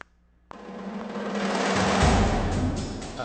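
Ensemble tom drums from the 8Dio Epic Toms library swell from a single hit into a dense, thundering roll that builds and stays loud and reverberant to the end, with no voices.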